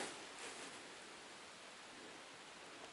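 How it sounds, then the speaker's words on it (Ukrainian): Rain begins falling by a river while fishing in January, a soft, even hiss of drops spread across the surroundings, faint and steady with no talk. "дощик починається"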